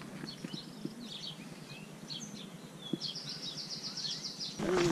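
Horse hooves clip-clop at a steady walking pace over open ground as the horse carries batteries, with scattered bird chirps and insect sounds in the background.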